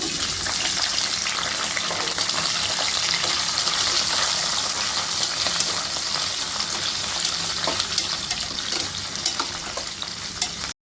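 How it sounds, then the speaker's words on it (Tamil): Potatoes frying in a kadai for aloo biryani give a steady, close sizzle with stirring scrapes throughout, and no one speaks. "கடாய இதில் இந்த கிழங்கு போட்டுக்கலாம்."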